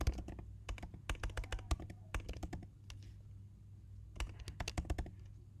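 Rapid, irregular keyboard typing in bursts, crisp close-up clicks with a brief pause in the middle, over a low steady hum.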